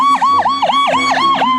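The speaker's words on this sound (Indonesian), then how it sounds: "Wow, ada ambulans." A toy ambulance siren wails in a fast repeating electronic warble, loud and close, with no voices over it.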